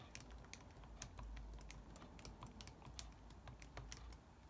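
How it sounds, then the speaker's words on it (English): Numbers being keyed into a calculator: a rapid, irregular run of light plastic button clicks, close and quiet, continuing steadily without speech. "So I'm gonna go ahead and just type in those numbers."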